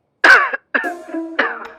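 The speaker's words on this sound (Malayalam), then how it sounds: "വയ്യടെ ഭയങ്കര ചുമ" A person coughing heavily, three harsh hacking bursts separated by short pauses, close and loud.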